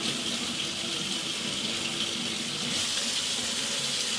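Hot water runs steadily from a tap in a constant, close, full hiss.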